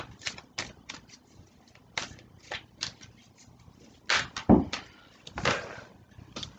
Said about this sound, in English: cards are just shooting out everywhere